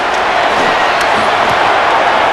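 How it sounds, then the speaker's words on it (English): A loud, steady roar from the stadium crowd in the Madden NFL 26 football video game, Los Angeles Rams versus Arizona Cardinals, continuous and dense throughout. "The noise very loud from the crowd."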